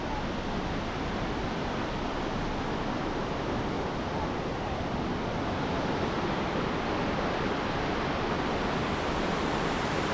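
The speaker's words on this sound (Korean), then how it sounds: "더 놀라운 폭포가 있어요." Ryusei waterfall in Sounkyo gorge, Daisetsuzan National Park, pours as a steady, full, hissing roar of falling water heard from nearby, unbroken throughout with faint wind and no speech over it.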